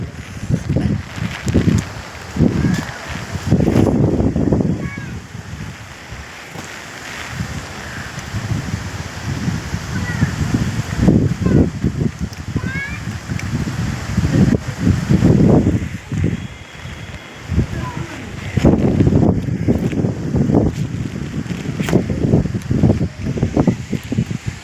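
Strong gusting wind from Cyclone Fengal roars and buffets in repeated surges, with a steady hiss of heavy rain underneath; no talking.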